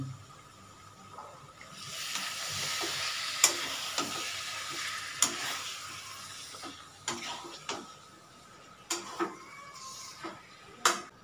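Boiled cabbage with prawns sizzles in a pan while being stirred, a steady frying hiss broken by repeated clinks and scrapes of the spatula against the metal, close up and without talk.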